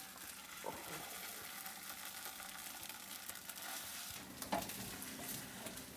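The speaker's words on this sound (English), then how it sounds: "We'll flip it a little bit just to finish cooking it." Food sizzles in a pan just after being flipped, a steady broadband hiss that runs the whole time with a couple of brief clinks or scrapes near the end, and no talking over it.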